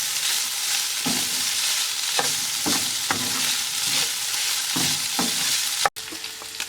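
About one tablespoon of butter sizzles in a pan for a Turkish kebab dish, with a steady close hiss and occasional scrapes of a utensil and a sharp knock near the end, with no speech.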